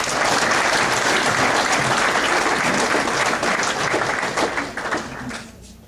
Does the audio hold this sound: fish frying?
no